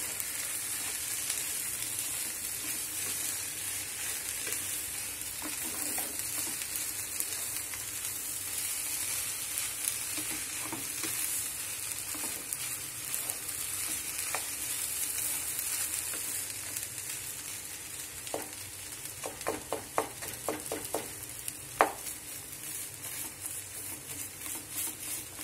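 An aliv (garden cress seed) laddu mixture is stirred in a hot pan until it thickens and pulls away from the sides. A steady soft sizzle and hiss runs throughout, with light scraping clicks that cluster toward the end and no talking.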